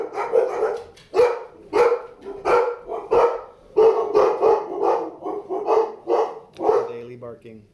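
A dog barks repeatedly in a steady, fairly loud series of sharp woofs, close by, with short gaps between barks.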